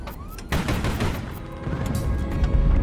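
Ship weapons fire in the naval-airship war game Highfleet, a sharp burst of loud, crackling shots followed by a continuing rumble of gunfire and debris.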